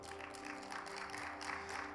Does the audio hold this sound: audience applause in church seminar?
yes